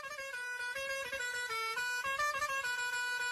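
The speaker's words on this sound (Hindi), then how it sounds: "जब कोई गाड़ी हॉर्न बजाते हुए स्पीड में तुम्हारे पास आती है तो तुम्हें हॉर्न की आवाज हाई पिच में सुनाई देती है" Car horn sounding steadily at high pitch as the vehicle approaches at speed, a loud, sustained honk with slight pitch wavering over low road rumble.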